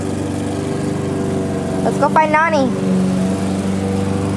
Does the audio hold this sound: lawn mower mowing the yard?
yes